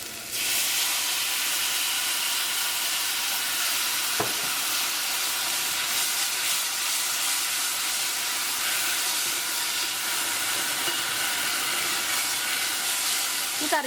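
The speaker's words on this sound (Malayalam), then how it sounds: "വാളംപുളിയുടെ വെള്ളം ചേർക്കാം." Tamarind water poured into a hot simmering bitter gourd theeyal curry, setting off a loud steady sizzle and hiss that continues throughout, close up and alone.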